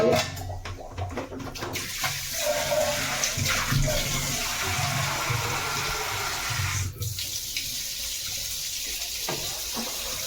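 Water pouring steadily into a pressure cooker of mixed vegetables for desi-style santula, a continuous close splashing wash that briefly breaks off near the seventh second, with soft kitchen clatter.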